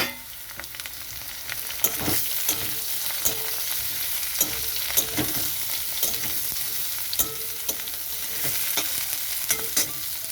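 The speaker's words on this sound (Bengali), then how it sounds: "তো এখন আমি এখানে দিয়ে দিচ্ছি নাল ডাঁটাটা দিয়ে ভালো করে কষাতে হবে।" Nal stalks being sautéed with partly boiled potato for a fish curry, a constant bright sizzle with repeated spatula scrapes and taps at an uneven rhythm, close and steady throughout, no voices.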